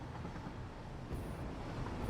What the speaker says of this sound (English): Tried to catch a ride on a train.